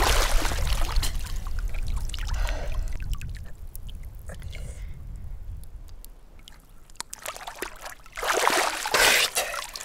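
Water splashes and sloshes as someone dunks their head under, bursts of splashing at the start and again near the end with quieter trickling between.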